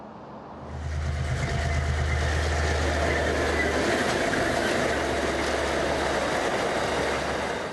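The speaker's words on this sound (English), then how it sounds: "The coal trains again rattle over the bridge spanning the Sandy Creek in Grantham." Coal train rattling across the bridge over Sandy Creek at Grantham, a steady loud rumble and rattle of wagons filling the whole stretch after a quiet start, with a deep low drone underneath.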